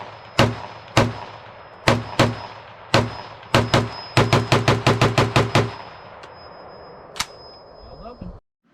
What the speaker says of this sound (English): No surprise, test firing went perfectly.